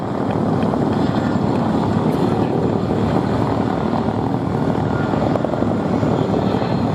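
RAF Chinook twin-rotor helicopter flying at the Duxford air festival display, a loud, steady, continuous rotor and engine roar with wind buffeting throughout, no talk.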